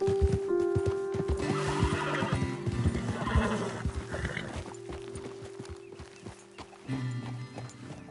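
In the video game Red Dead Redemption 2, horses whinny loudly over a rapid clatter of hooves, with steady music-like tones underneath, before the hoofbeats slow and fade.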